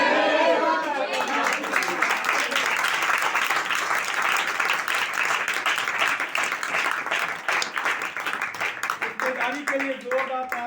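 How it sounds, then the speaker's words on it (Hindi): A church congregation at Bride Church in Pakistan breaks into sustained applause during a sermon, dense steady clapping with crowd chatter running throughout, and a voice emerging near the end. "बेदारी के लिए जोरदार तालियां"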